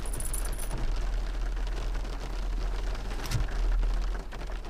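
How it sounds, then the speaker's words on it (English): Steady rain falling during a storm chase, a constant hiss of drops on surfaces with a low rumble underneath and a brief thump near the end, no voices. "you might even be able to hear the rain."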